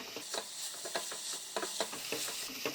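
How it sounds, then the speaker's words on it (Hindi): Garlic, ginger and onion sizzle in oil over medium heat while a spoon stirs and scrapes the pan in an irregular rhythm, with no talking. "लहसुन अदरक प्याज को भूनते 5-6 मिनट हो गए हैं"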